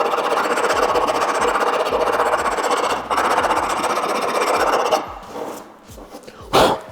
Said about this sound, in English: So I'm gonna take a flat file just across the top of it, and we're gonna take off just the layer of paint that would ride on this.